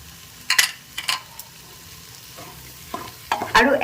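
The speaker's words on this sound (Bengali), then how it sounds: "একবার খুব ভালো করে নেড়েচেড়ে মিশিয়ে নিচ্ছি" A spoon stirs tomato rice mixed with salt and chopped coriander leaves in a pan, producing several separate scraping, clattering strokes over a soft, low sizzle, with a final busier flurry of stirring.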